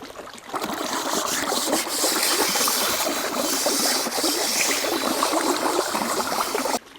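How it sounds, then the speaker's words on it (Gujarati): Vegetables rinsed under a running kitchen tap for a Gujarati dum aloo meal, giving a steady broadband splash and trickle that holds at even loudness for several seconds, then cuts off abruptly near the end, with no talking. "હવે આપણે ધોઈ નાખી શાકભાજી"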